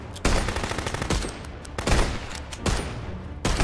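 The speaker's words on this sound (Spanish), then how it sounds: "Vamos a disparar a placer." Gunfire from the Contraband Police video game: repeated loud bursts and shots crack out in quick succession, with heavy broadband blasts recurring every half second or so over a continuous rumbling background of further fire.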